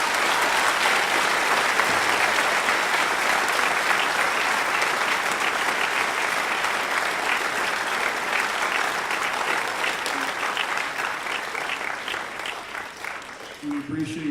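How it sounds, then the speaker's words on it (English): Sustained applause from a Veterans Day program audience honoring veterans, dense steady clapping filling the room for about thirteen seconds before thinning and fading near the end. "Let's give all these people a round of applause."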